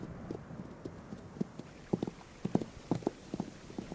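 Hooves of wild horses, a small band of stallions, a mare and a foal, clip-clop in loose, uneven steps on open ground, moderately close and not loud, with no talking.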